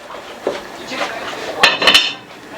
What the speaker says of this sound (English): I'm going to put a lid on here.